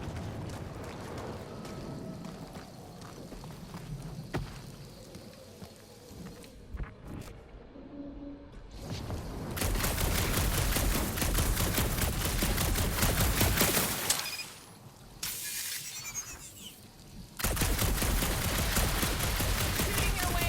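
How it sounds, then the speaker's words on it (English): Bursts of sci-fi gunfire and weapon blasts sound in Marvel's Guardians of the Galaxy video game. Long stretches of sustained shooting mix with explosive combat noise, with brief pauses between the bursts. "Shooting your way out of every problem again, Peter?"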